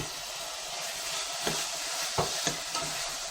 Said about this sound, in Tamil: வெங்காயம் நல்லா டிரான்ஸ்பரண்ட் ஆனதும் சிக்கன் சேர்த்திக்கோங்க.